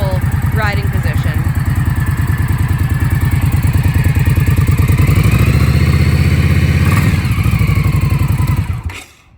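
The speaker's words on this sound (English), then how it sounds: "Pretty quiet motorcycle, which is really nice." A 2018 Indian Scout Sixty motorcycle idles close by with a steady, low, even pulsing throb, rising slightly midway before cutting off abruptly at the end.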